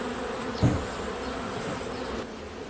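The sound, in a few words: honeybees buzzing at an agitated nucleus colony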